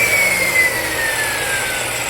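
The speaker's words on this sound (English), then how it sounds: "second try with Ryobi chop saw." A Ryobi chop saw runs with a steady, loud, high motor whine and a droning hum, continuous and close, with no talk.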